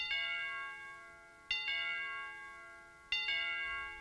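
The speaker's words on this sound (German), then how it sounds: "Es klingelt 3-mal" A bell rings three times, evenly spaced strikes about one and a half seconds apart, each bright ring ringing out and fading before the next, alone with no voice over it.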